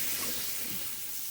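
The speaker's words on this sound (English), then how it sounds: "Listen to that sizzle." Pork stock poured into a hot roux in a pan gives a steady, close frying sizzle with a broad hiss that holds for the whole moment, with no talking.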